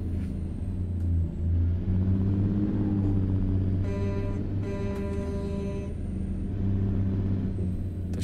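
Truck engine in American Truck Simulator rumbling low and constant, with revs rising and falling while driving on a Mexico map mod.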